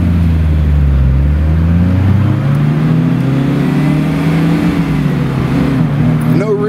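A 1979 MGB Roadster's roughly 70-horsepower engine pulls hard, its close, steady drone climbing in pitch through the gear before easing off near the end.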